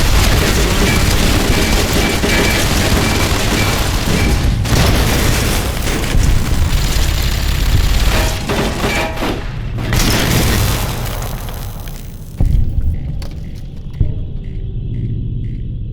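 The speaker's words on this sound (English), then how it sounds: "Thank God for pulse grenades." Pulse grenade explosions in Fallout New Vegas, heavy booming blasts and a dense rumble that roll on loud for about twelve seconds, then drop to a quieter tail with a few sharp pops.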